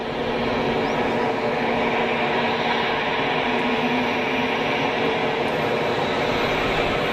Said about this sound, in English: we see here the BA319 taxiing up to 2-2